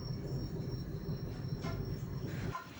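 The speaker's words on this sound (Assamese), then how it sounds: "তো ফাইনেলি আমাৰ ট্ৰেইন আহি পাই গ'ল।" A train rumbles steadily as it arrives at a station, with a constant low rolling drone and a faint high squeal of wheels running through it, fairly close and heard alone without talking.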